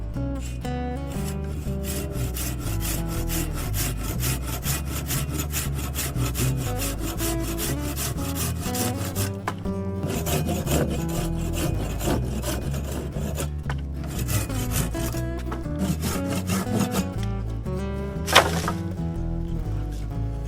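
A handsaw cuts through wood for a woodland shelter build, loud close rhythmic rasping strokes repeating steadily throughout with no talk.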